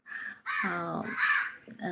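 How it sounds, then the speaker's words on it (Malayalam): Crows caw loudly and harshly nearby in a run of repeated calls with short gaps, some overlapping, during an outdoor live broadcast. "കാക്കകളൊക്കെ വല്ലാണ്ട് ശബ്ദം ഉണ്ടാക്കുന്ന"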